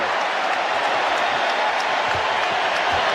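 Arena crowd noise at Chicago Stadium during an NBA Finals Game 1 between the Bulls and Trail Blazers, a dense, steady roar with scattered shouts reacting to Stacey King, loud and continuous throughout.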